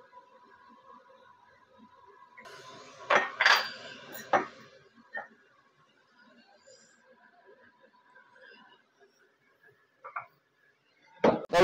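A spoon knocks and scrapes against a metal cooking pot while tempering is stirred into moong dal, several sharp clinks in a cluster followed by scattered lighter taps in a quiet kitchen.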